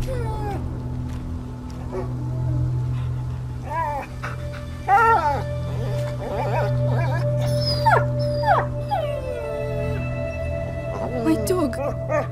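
A dog whimpers and whines in short, rising and falling cries in a scene from the video game A Plague Tale: Innocence, heard over a steady low musical drone.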